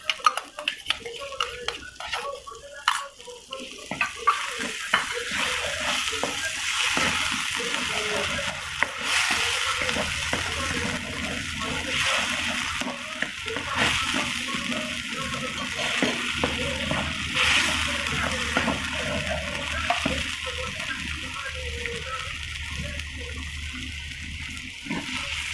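A spice paste mixed with yogurt fries and bubbles in a pan while being stirred continuously, giving a wet, spluttering sizzle with scraping utensil strokes close by throughout.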